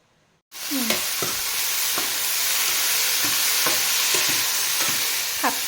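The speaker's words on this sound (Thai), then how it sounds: "นี่ก็จะทอด ทำสเต็กเนื้อให้พี่เมิน" Beef steak fries in a pan: after a brief silence a loud, constant sizzle starts, broken by sharp scrapes of a utensil against the pan at irregular intervals.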